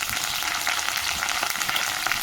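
Finely chopped green chillies and curry leaves fry in hot oil with a bay leaf, making a loud, dense, crackling sizzle that runs unbroken at close range.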